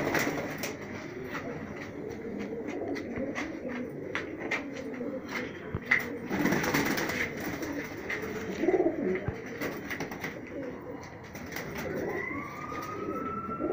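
Golden red-eyed high-flyer pigeons in Rajsamand, Rajasthan coo repeatedly up close, low rolling calls continuing throughout, while a rising siren-like tone sounds in the distance near the end.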